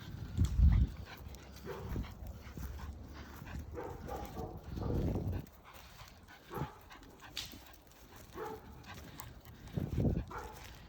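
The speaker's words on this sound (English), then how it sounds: "the dog is barking defensively" A poodle-mix puppy barks defensively in scattered short bursts and yips, some close and loud, with whimpers between them and quieter gaps.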